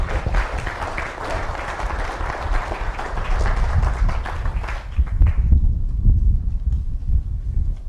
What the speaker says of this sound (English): round of applause for the Kelly family that hosted us here.